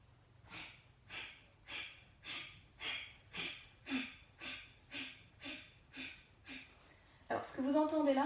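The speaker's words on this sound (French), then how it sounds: "ce que vous entendez là, c'est un léger resserrement de la gorge" Ujjayi breathing through a slightly constricted throat makes a slow, rhythmic series of about a dozen soft, hissing breaths, close and quiet. A person starts speaking at the end.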